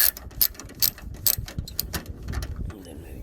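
A ratchet loosens a 10 mm bolt on a 2013 Toyota Sienna during a battery replacement, giving a close series of sharp, uneven clicking strokes that quicken and soften toward the end.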